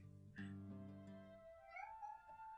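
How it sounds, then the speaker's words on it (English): A house cat meows twice, drawn-out and tonal, fairly clear against a quiet background with no one talking. "maybe you hear the cat in the background"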